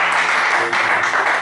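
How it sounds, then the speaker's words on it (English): A church congregation claps and cheers in celebration, a loud, continuous wash of hands and crowd noise for a brief stretch with no pause. "Please clap your hands and celebrate."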